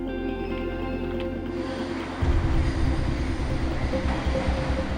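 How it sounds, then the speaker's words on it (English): A train rumbles into a station platform, its low rolling roar rising and filling the space after a quieter hum, with a faint high whine near the end. "Trains approaching."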